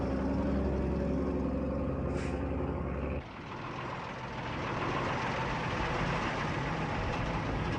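Supply lorries' engines idle and then pull forward along a road. The heavy rumble is loud and nearby, a hiss like an air brake sounds midway, and the tone shifts as the vehicles start moving.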